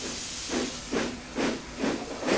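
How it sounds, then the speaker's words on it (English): The steam engine Thomas from Thomas & Friends lets out rhythmic hissing puffs of steam, four or five even bursts rising above a constant background hiss. "Thomas is a steam engine."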